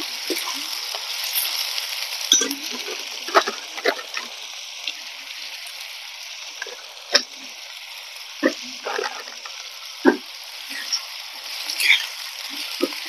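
Chopped onions with salt fry quietly in a pan, a soft steady sizzle with occasional small pops and stirring clicks, heard alone with no talk.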